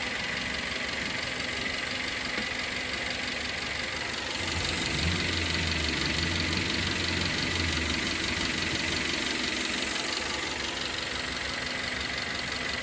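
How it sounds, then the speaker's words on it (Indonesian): A car engine idles steadily without being revved, the cooling system running with a faulty, stuck thermostat. The even mechanical hum carries a light knocking texture and stays alone at a constant level throughout. "ini kita biarkan hidup tanpa digas"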